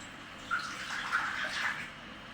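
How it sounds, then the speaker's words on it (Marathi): Water poured into a pot of tulsi, kalmi and clove kadha simmering on the stove gives a steady close splashing stream for a couple of seconds, with a few louder gushes along the way. "थोडंसं पाणी आपण घालून घेऊ अजून."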